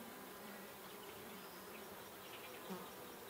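Honeybees buzz steadily around a horizontal hive split with fresh comb, a dense, even hum holding at low volume throughout with one brief louder swell near the end.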